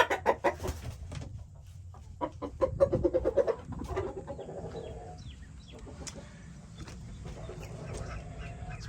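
Several chickens cluck and squawk at a backyard homestead coop, with sharp calls bursting loudly near the start and softer clucking continuing steadily from close by.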